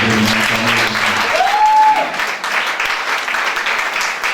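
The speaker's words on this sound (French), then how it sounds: "Acclamez très fort." A church congregation breaks into loud, sustained applause, a dense wash of clapping that fills the room and continues unbroken, with a brief voice audible at the very start.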